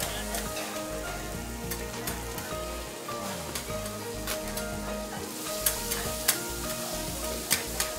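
Okonomiyaki, a thick Japanese savory pancake, sizzles steadily on a hot griddle in Osaka, a continuous close frying hiss with a few sharp crackles and pops toward the end, no voices.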